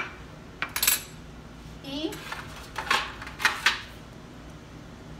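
Egg yolk is whisked in a bowl for an apple pie glaze, a handful of quick metallic clinks and scrapes against the bowl in short bursts, close and moderately loud, with a brief word spoken at the start.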